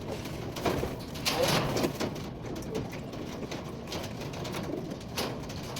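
Racing pigeons cooing in a loft, soft low coos repeating at close range over rustling and shuffling.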